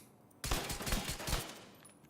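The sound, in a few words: gunshots in a video game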